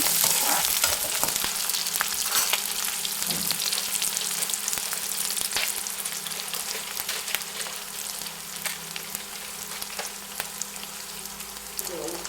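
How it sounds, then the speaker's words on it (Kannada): Garlic cloves and an inch of ginger frying in hot oil in a pan for paneer butter masala, a dense continuous sizzle with occasional stirring scrapes, close and steady throughout. "ಶುಂಠಿ 1 ಇಂಚು, ಇದು ಕೂಡ ಸ್ವಲ್ಪ ಫ್ರೈ ಮಾಡ್ಕೊಳ್ಳೋಣ."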